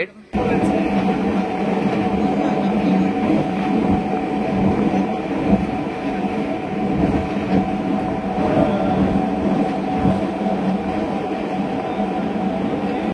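Steady rumble of a Digha–Howrah local train in motion, loud and continuous with a dense low roar and faint rhythmic wheel clatter throughout, heard from on board, with indistinct voices mixed into the background.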